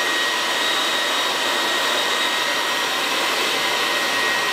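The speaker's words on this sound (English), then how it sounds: "Like you're really rough drying someone's hair." A barber's hair dryer blasting in a loud, steady, unbroken roar while rough drying hair for a textured quiff, close to the listener with no talking.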